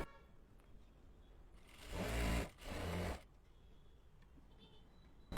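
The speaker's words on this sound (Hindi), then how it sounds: "अभी थोड़ा सिलाई लगा लेते हैं।" A sewing machine stitching a salwar fabric for pleats whirs in two short bursts, the first about a second long and the second shorter, separated by a brief pause, in an otherwise quiet room.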